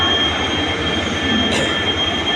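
Train noise at a Delhi railway station platform, with a steady broadband rumble and hiss throughout and a brief squeal partway through, loud and close with no talking.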